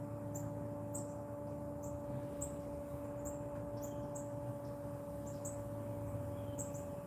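Small birds chirp faintly in quick repeated bursts over a constant electrical hum and background hiss.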